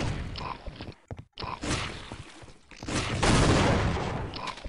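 Explosion in the 1999 shooter game Half-Life: Opposing Force, a loud, dense blast with rumbling debris and gunfire-like crackle that swells and lingers over several seconds.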